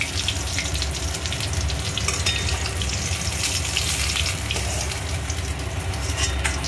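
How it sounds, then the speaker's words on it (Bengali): Pieces of rohu fish fry in hot oil with a dense, continuous close-up sizzle that stays loud and even throughout, with no voices. "মাছগুলো সব ভেজে নিলাম।"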